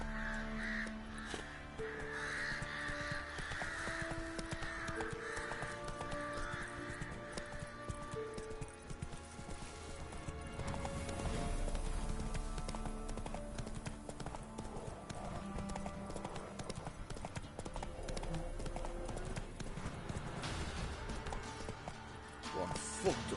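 Horse galloping in The Witcher 3, with a steady rhythmic clip-clop of hooves running continuously under game music and ambient sound, moderately loud throughout.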